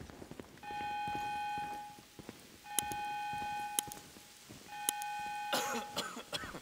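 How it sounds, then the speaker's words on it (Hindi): A bank alarm rings in Grand Theft Auto 5 during a heist, sounding three repeated electronic tone bursts of about a second each with short gaps between them, over light background noise and a few clicks. "अलार्म बज गए इनके।"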